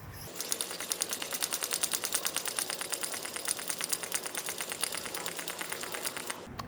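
Rapid, steady mechanical ticking, like a pump, runs for about six seconds on the fuel tank of a Coleman model 220 double-mantle lantern. It is close and fairly loud, with no talk.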